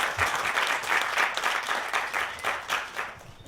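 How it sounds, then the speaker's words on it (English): Wedding guests at an indoor reception clap together for the bride, a dense, steady round of applause close by that pulses slightly and continues for several seconds without fading. "Round of applause for Eryn, everybody."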